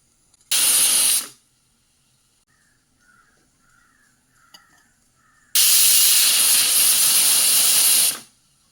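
A pressure cooker holding a tamarind, turmeric and chilli curry lets out two loud hissing steam bursts, a short one and then a longer one of about three seconds, with faint crow caws in the quiet gap between.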